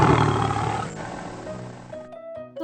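A lion roars in pain in a children's moral story about a cunning fox, a loud, harsh, sustained roar that tails off into lower groaning strains.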